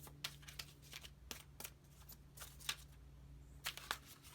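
Brisk bursts of tarot cards being shuffled, sharp riffling clicks recurring irregularly over a low steady hum, fairly quiet and close.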